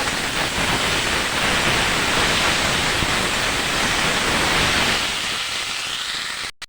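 Vegetables frying with a ground paste of spices, green chilli, ginger and cumin in a pan give a loud, steady broadband sizzle that holds evenly and tails off near the end.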